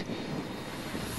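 A fixed-wing aircraft flies in to land at Beirut Airport, heard as a steady, broad engine roar with some wind noise, continuous and fairly distant for just over a second, with no speech.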